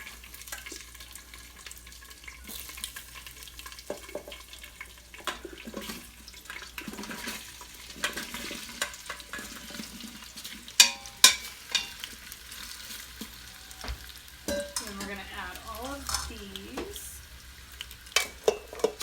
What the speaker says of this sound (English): So we're going to go ahead and start putting our veggies in.